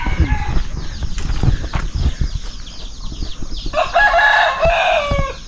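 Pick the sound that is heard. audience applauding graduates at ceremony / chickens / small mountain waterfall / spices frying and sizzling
chickens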